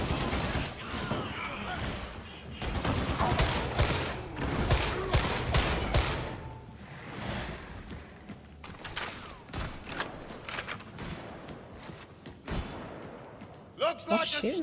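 Gunfire in a video game, shooting through a wall: rapid bursts of sharp, clattering shots in irregular volleys, fairly close, mixed with mechanical creaks and some talking.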